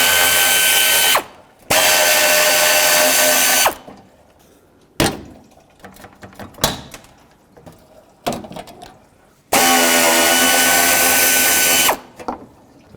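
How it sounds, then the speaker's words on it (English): A ratchet loosening the hood latch fasteners on the radiator support of a 2002-06 Toyota Camry, loud close bursts of rapid clicking separated by pauses with small metallic handling noises between them. "I'm also going to have to remove the latch to allow this support to move."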